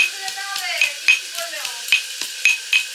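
Cooking over a wood-fired clay stove on a cold rainy evening: close, rhythmic scraping and stirring strokes in a pan, about eight sharp metallic scrapes with a soft sizzle beneath.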